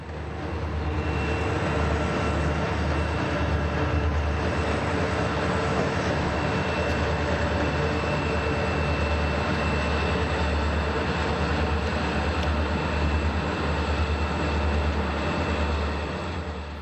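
A Conrail train shoved by two SD40-2 diesel locomotives working as pushers, giving a steady, loud low engine drone with rumbling rail noise that holds throughout, with no voices.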